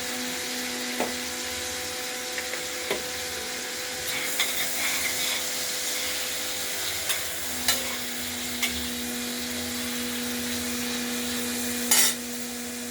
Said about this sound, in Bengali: আলুগুলোকে আমরাও হালকা ভেজে নেব